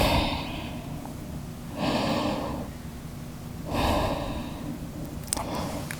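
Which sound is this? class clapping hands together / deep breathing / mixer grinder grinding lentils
deep breathing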